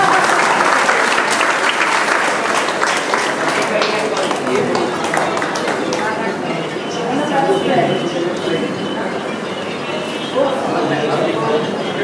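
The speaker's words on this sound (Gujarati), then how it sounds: "તાળીઓ પાડો એમના માટે." An audience claps in sustained, dense applause at a crowded public gathering, loud and continuous for the whole stretch, with voices talking over it.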